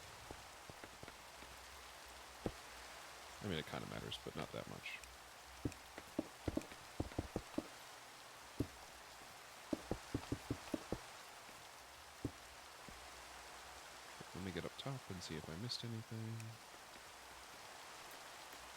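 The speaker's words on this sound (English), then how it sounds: "I hate Minecraft rain." Steady Minecraft rain patters throughout at a fairly low level, under someone talking, with scattered clicks and short bursts of in-game noise.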